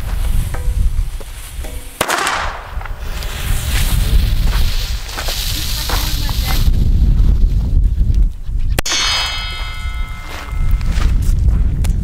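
Several sharp Chinese firecracker bangs from Pyrofactory Superböller 1 burst out close by over a steady rumble of background noise, with crackling bursts spread across the stretch and a loud final blast.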